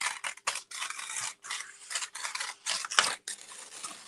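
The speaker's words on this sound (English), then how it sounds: "rip it across and create a mountain range with your copy paper" Copy paper torn by hand into a mountain range shape, making a run of close, dry ripping and crinkling bursts with short pauses between tears and no talking.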